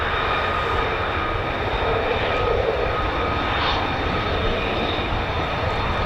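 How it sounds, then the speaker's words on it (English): A loud, steady F-16 fighter jet engine roars on the move, a constant broadband thunder with a whining tone that persists throughout, close and overpowering. "that F-16's on the move"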